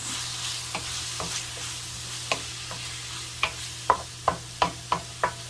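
Chicken and white onions fry in a pan for fried rice with sweet and sour chicken, a steady low sizzle under a series of sharp utensil taps that grow louder and more regular toward the end.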